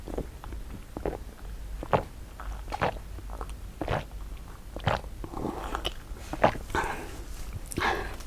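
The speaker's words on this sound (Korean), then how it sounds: "지금 룽지가 노즈워크 하고 있어가지고 약간 짭짭거리는 소리가 날 수도 있, 있습니다." A dog sniffs and chews through a nosework game close by, with irregular snuffles, wet smacking bites and soft crunches scattered across a quiet indoor room.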